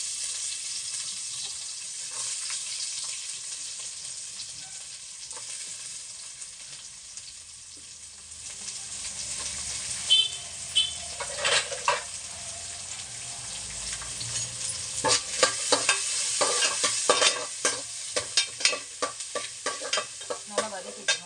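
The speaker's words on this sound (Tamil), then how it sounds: "நல்லா வதக்கிக்கணும். வெங்காயம் வதக்கும்போது கொஞ்சோண்டு உப்பு போட்டுக்கலாம்." Small onions frying and being stirred in hot oil with fennel seeds and fenugreek for a lake fish curry, a steady close sizzle with scraping spoon strokes that grow busier and louder in the second half, no talking.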